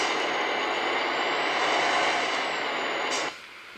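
A truck in the Euro Truck Simulator 2 video game gives a loud, steady engine and road rumble with a hissing air-brake-like tone. The sound cuts off abruptly near the end.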